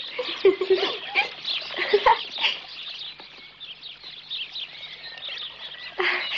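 Birds chirp and whistle continuously in a busy chorus, with some brief louder calls, close by.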